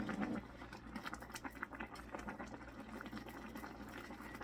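Water bubbling at a steady boil with noodles in an electric hot pot, a continuous low churning patter that stays fairly quiet and close throughout.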